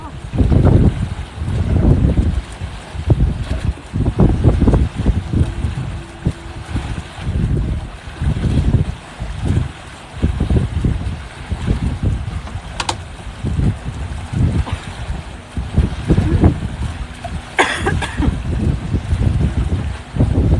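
Sailboat moving fast under sail, with heavy buffeting wind noise on the microphone and surging, rushing water in uneven gusts throughout.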